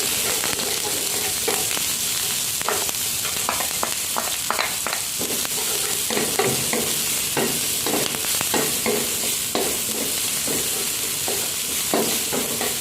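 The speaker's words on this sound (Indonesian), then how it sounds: "Untuk bumbunya ini saya tumis dulu." Seasoning paste stir-fries in hot oil in a wok, a steady sizzle broken by repeated scraping and stirring strokes of a utensil against the pan.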